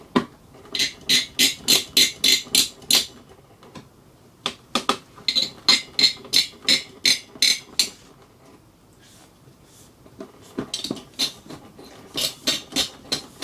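A screwdriver ratcheting CPU cooler screws onto an AMD Ryzen 3600 in a PC build, sharp clicking bursts in quick rhythmic runs with short pauses between sets.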